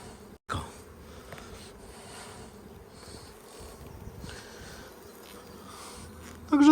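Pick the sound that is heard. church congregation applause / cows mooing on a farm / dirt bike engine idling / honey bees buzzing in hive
honey bees buzzing in hive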